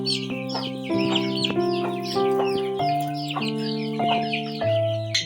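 Local chickens cluck steadily and close by, a string of short overlapping calls running throughout with a few louder crowing-like notes mixed in, and no talk over them.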